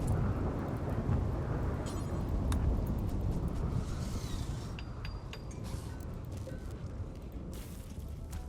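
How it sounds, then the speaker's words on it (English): Thunderstorm in the video game RimWorld: a steady wash of rain and low rumbling thunder plays throughout, with faint clinks and mechanical noises from the game over it, and no speech. "Psychic drone lifted, only to be replaced by a thunderstorm"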